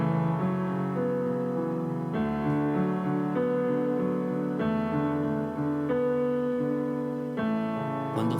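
A song plays as recorded music, a sustained instrumental passage with shifting chords and steady level, with no talking over it.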